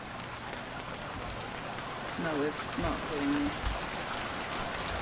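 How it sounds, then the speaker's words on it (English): Steady hiss of rain falling in the video game Stranded Deep, a soft constant patter throughout, with someone briefly talking over it near the middle. "Oh balls, it is raining."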